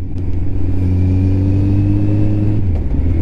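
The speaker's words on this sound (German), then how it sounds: "Oh, nice Auto." A car passes on a road beside a Kawasaki ZX12R motorcycle ride, its steady engine drone loud and close, then easing in pitch near the end, with no talking.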